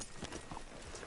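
Horse hooves clip-clopping in Red Dead Redemption 2, a short run of soft, faint, evenly paced hoof thuds, alone.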